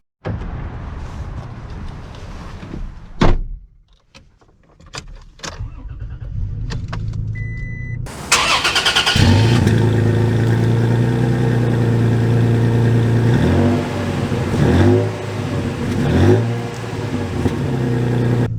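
A 2023 Toyota Tacoma SR long-bed base model: faint clicks and rustling, then the engine cranks and catches with a loud burst, settles into an idle, and rises and falls as the truck pulls away.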